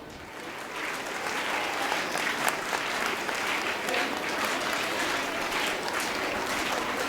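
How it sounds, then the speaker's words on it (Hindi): Children at a high school and junior college annual function applaud together, a dense, steady roar of clapping that holds evenly from start to finish. "बच्चों तालियां।"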